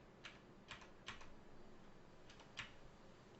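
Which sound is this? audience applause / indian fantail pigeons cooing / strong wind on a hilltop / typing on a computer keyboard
typing on a computer keyboard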